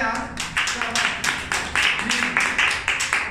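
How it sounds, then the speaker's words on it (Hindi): Students in a classroom clap together in a quick, steady rhythm of close, sharp hand claps, with voices calling out over the applause. "और तालियां बजा दो यार"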